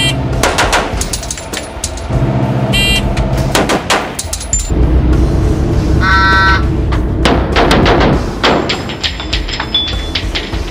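Close-range rifle shots fired from a retention position into a portable encapsulator bullet trap on a range, loud sharp reports spaced irregularly with ringing tones between them.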